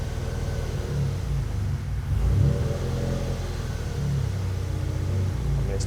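A Daihatsu Copen with worn wheel bearings and uneven replica wheels runs in second gear, its engine droning at a steady mid-pitched rumble with a brief swell in the middle, continuous and fairly close.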